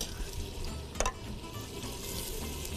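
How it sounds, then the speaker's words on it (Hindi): Water pours into a pan of meat and turnip curry with a brief splash, then steady simmering and sizzling continue. "इसमें ज़रा सा पानी डाल दूँ,"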